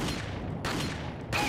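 Shots in the video game Resident Evil 4 (2005), heard as dense, continuous booming blasts with a couple of abrupt surges, loud and close.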